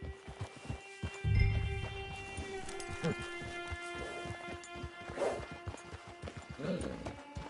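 Horse hooves clop in a steady, repeating rhythm in the Red Dead video game, close by and moderately loud, with sustained background music tones underneath.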